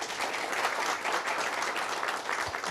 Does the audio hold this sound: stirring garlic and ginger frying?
no